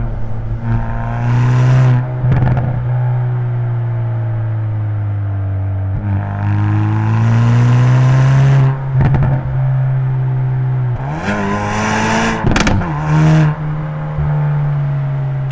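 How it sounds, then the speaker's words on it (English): Exhaust of a Hyundai i30 Fastback N on winter tyres while driving, a steady droning engine note with rising and falling revs, heard loud and close for about fifteen seconds with brief gear-change breaks. "Exhaust sound suits this car very well."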